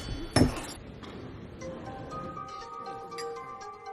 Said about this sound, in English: Unfortunately, Philip dropped his glass as they were about to toast the president.